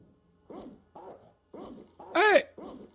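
A dog barks in the Fallout 1 video game, with four or five short, sharp barks spaced about half a second apart, the fourth louder and more drawn-out, close and clear with no talk over them.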